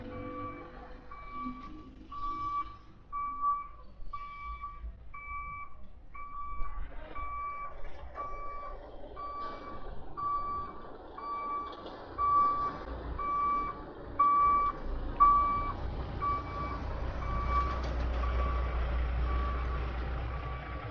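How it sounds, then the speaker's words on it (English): An 18-wheeler truck backs up on a town street in San Miguel de Allende, Mexico, its reversing alarm beeping in a steady, evenly spaced rhythm over rumbling engine and traffic noise that swells toward the end. "these 18-wheelers back up and block traffic"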